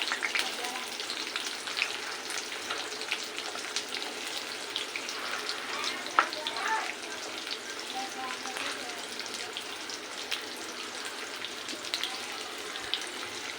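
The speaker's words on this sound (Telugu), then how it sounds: "ఇప్పుడు ఈ ఉల్లిగడ్డలు కొద్దిగా వేగాలి" Chopped onions frying in a pan, a steady close sizzle with crackles and soft stirring scrapes, fairly quiet throughout with no words spoken.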